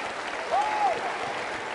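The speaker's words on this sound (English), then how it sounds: "Right now, we're going to applaud every woman in this room." An audience applauds the women in the room at a school promotional event, a faint, steady wash of clapping with a brief whistle-like tone rising over it partway through.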